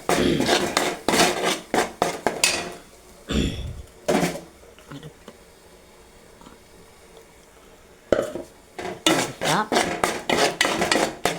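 Ground masala paste being stirred and fried in a pan for Kerala fish curry, with repeated scraping and clinking of a spoon against the pan, in bursts near at hand and a quieter stretch in the middle.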